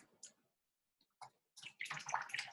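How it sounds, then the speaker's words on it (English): A paintbrush is swished in a container of water in a few short splashing bursts, quiet at first and then a busier sloshing run near the end, with no voices. "Always wake your brush up in your container of water to get your brush prepared."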